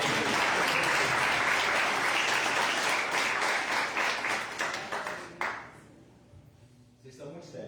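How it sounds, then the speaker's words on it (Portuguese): A church congregation applauding during a service, dense clapping that gradually thins out and fades, with a voice speaking over the dwindling applause near the end. "Dá uma salva de palmas para Jesus."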